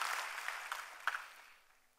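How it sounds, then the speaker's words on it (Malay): Audience applause at an UMNO political gathering, rising as a speaker asks the crowd to honour its leadership. The clapping is a moderate wash of many hands that thins and fades out over two seconds. "Marilah kita berikan tepukan gemuruh kepada"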